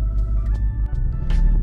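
A Ram TRX truck cruising slowly with its intake fitted, giving a steady low engine rumble and throbbing hum that stays close and loud throughout, with no talking.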